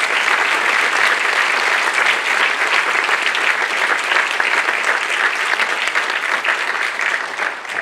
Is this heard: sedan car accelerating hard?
no